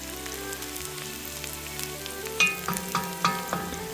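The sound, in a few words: onions sautéing in hot olive oil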